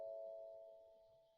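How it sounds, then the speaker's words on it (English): A doorbell chime rings once inside a house, a steady ding tone that starts loud and slowly fades over about a second and a half, heard alone with no talking. "I think that was my doorbell."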